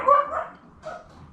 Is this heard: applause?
no